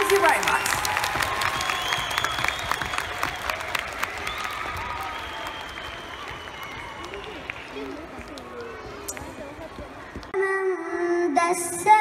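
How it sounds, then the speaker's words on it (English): Audience at a UCMAS mental arithmetic competition in Dubai applauding honored guests, dense clapping from a large crowd that gradually thins, followed by a brief burst of other sound at the end. "please give a big round of applause to our honorable guests"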